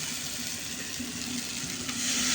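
Spice paste in a pan hisses and sizzles steadily after a splash of water is added, a constant watery frying hiss with a faint low hum beneath and a brief rise toward the end.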